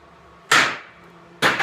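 Two sharp metallic hammer taps ring out close and loud on welded fuller die halves in a knife-making shop, spaced about a second apart, with a quiet decaying ring after each strike.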